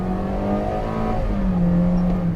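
Toyota Innova Hycross petrol engine with CVT transmission revs in a sustained, droning hum, a continuous steady engine note heard from inside the car without talk.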